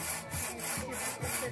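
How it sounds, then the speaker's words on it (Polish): A hand saw draws back and forth through wood in steady repeated strokes, close and fairly loud, with a rasping rhythm and no talk over it. "Nie przyciskasz piłą."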